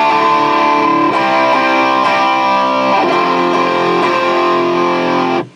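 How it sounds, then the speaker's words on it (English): Electric guitar through a Krank amp on a distorted setting at a NAMM 2009 trade-show booth, a loud, sustained and saturated chordal tone with a few re-struck chords, cut off abruptly at the end. "I'll show you the distorted tones, for instance, and then I'll switch back to clean tones."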